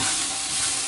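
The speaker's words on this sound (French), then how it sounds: "Je remue hors du feu." Flour being stirred in a pan off the heat, a dense soft scraping and hissing texture that stays steady and close for under a second, with no talking.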